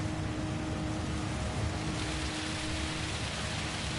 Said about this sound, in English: Why is it raining heavy? We've reached torrential